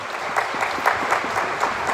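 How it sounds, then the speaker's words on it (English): A school-hall audience claps after a youth orchestra's spring concert, a dense, steady wash of applause from many hands, fairly close and continuous with no talking over it. "Everyone's clapping because they're excited for the concert to be over."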